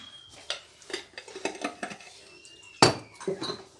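Spice paste for chicken pizza being mixed in a bowl, with a spoon clinking and scraping against the bowl in a series of short, close taps and a sharper knock near the end.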